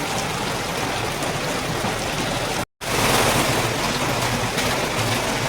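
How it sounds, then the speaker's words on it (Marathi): Heavy rain pours steadily in a village at the start of the first monsoon rain, a dense, loud, broadband roar that continues unbroken apart from one momentary dropout. "एवढा मोठा पाऊस चालू झाला."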